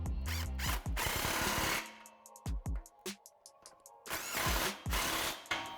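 Power tool tightening the factory clamp on a Mustang GT's stainless steel cat-back exhaust, loud close bursts of whirring and ratcheting broken by short pauses.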